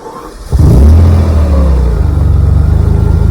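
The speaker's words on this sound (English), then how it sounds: "So here we go with a start." A 1987 Ferrari Testarossa with a 5-speed manual cranks briefly and catches at once, flaring into a loud, close rev before settling into a deep, pulsing idle.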